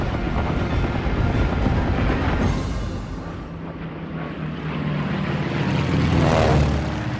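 American bomber aircraft attacking in the Battle of Leyte Gulf, a loud, roaring propeller drone that swells, dips and swells again as the planes pass close overhead, with no voices.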